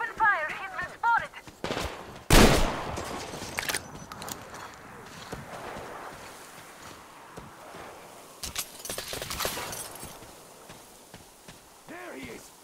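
Scattered gunshots ring out in a Metro Exodus firefight aboard a tugboat, with a loud burst early, a couple of later shots, and quiet stretches between them.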